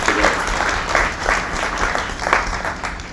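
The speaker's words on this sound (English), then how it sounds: "Let's give them a round of applause." An audience at the CBID Dolphin Tank event, a bioengineering gathering with students in the room, applauds staff, with dense, loud clapping filling the space evenly throughout.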